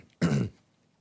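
A single short, sharp cough with throat clearing bursts out once, close and fairly loud, then drops back to near silence.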